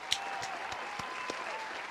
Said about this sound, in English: Let me go ahead and give you an applause really quick.